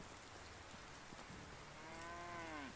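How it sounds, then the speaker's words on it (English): Cows moo in the Medieval Dynasty farm game, one drawn-out low call rising late in the clip over a steady hiss of rain. "There are cows."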